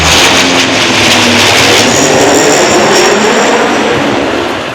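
Canadair firefighting aircraft flies past during a wildfire operation, its loud, steady engine roar filling the whole span and fading slightly at the end, with no talk over it.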